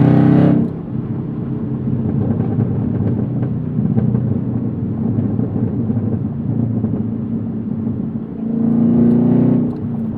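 A Chevrolet Camaro's exhaust crackles and pops off throttle over a loud, steady, close engine rumble that runs throughout, swelling slightly near the start and again near the end.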